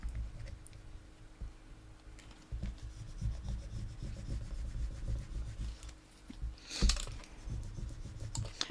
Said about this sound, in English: So just go over everything and burnish it on nicely.